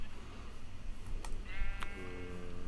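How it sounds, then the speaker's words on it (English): Minecraft sheep bleating in-game, two short nasal bleats standing out over quiet background ambience. "Hello, sheep."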